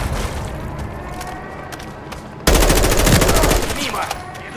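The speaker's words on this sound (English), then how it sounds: "Taking heavy fire." Video game gunfire from Call of Duty Modern Warfare III starts halfway through as a sudden loud burst of rapid automatic fire over a busy battle background.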